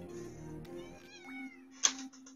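A cat on a desk lets out a drawn-out, wavering meow that rises and ends in a brief sharper squeak, heard close against a low steady hum with no speech.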